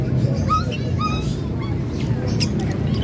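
At a marketplace where pet birds such as lutino and opaline cockatiels are sold, many birds chirp and whistle in short, scattered calls over a busy low background hum.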